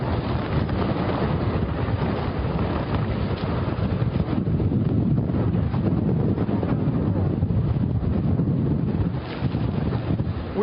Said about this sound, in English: I promise you I'm not over-dramatizing the strength of the winds right here